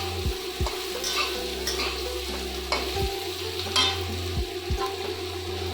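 Pointed gourd and pumpkin frying in a pan, a steady sizzle of oil broken by repeated scrapes and clinks of a spatula stirring against the pan, close and without speech.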